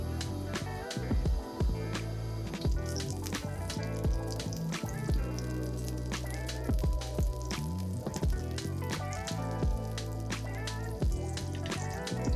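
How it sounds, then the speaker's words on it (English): Tuna steaks sear in butter in a hot cast iron pan, a dense continuous sizzle with sharp crackles and pops throughout, close and fairly quiet. "We sear the steaks on both sides for roughly 2 to 3 minutes."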